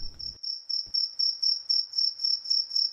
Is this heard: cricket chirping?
yes